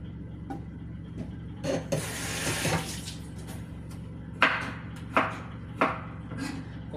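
A knife chops tomatoes and onion on a board in a home kitchen, with a few scattered taps and then three distinct firm chops, plus a brief rushing water-like wash in between.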